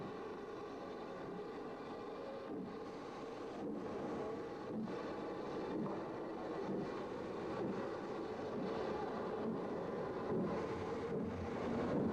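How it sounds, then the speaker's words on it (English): A 7mm O gauge model ballast train rolls away along the layout track, a steady close rumble with faint repeated clicks from rail joints, slowly building in level. "As the ballast train departs"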